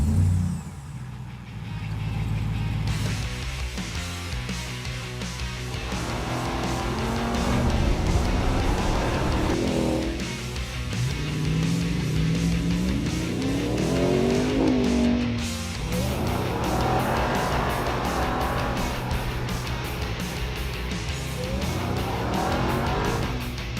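A 2021 Ram 1500 TRX pickup truck revs its engine hard in repeated rising surges, with tires squealing and skidding between the pulls, loud and close with no talking.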